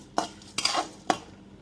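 A utensil scrapes and clinks three times against a pan while roasting whole spices for a Maharashtrian black masala, brief close strokes separated by short pauses.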